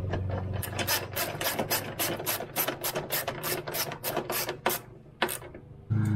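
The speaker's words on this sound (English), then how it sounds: "And just tighten it down." A ratchet tightening the bolt on a Toyota Corolla hood strut, with a steady run of quick rhythmic clicking rasps, close and fairly loud, briefly pausing near the end.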